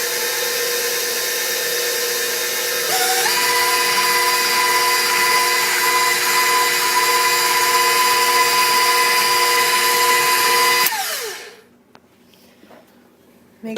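An electric hand mixer whirs steadily through gluten-free banana bread batter, a loud, even motor drone that shifts to a slightly higher speed partway through, then winds down and stops.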